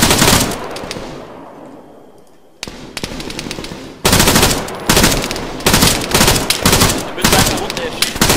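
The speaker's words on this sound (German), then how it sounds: "Hinten schlagen Schüsse ein," Dense bursts of rapid gunfire in the video game Arma 3 crackle and thud as shots hit a wall, with a brief quieter lull midway before the heavy volleys resume, loud and close.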